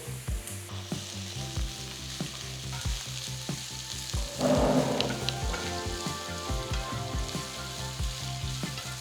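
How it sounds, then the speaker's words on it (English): Thinly sliced onions hit hot oil already flavored with cinnamon, clove, cardamom and fennel seeds, giving a continuous close sizzle with scraping stirs and clinks throughout, swelling briefly louder as the pan is worked for a cauliflower masala. "Next I'm going to add 4 medium sized onions thinly sliced."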